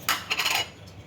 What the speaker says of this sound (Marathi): आता कढई गरम करायला ठेवली,